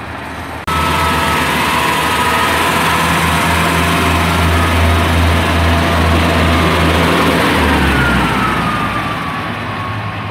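Class 142 diesel unit 142077 pulling out of Cathays station, a loud sustained engine drone with a low steady hum that swells and holds, then eases slightly as it moves off.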